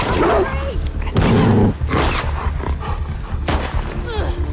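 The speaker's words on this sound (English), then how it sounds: "The WLF, they have trained dogs that will sniff and attack you." Trained dogs barking in The Last of Us Part II, several sharp barks and yips in bursts mixed with gunfire and game action, loud and close.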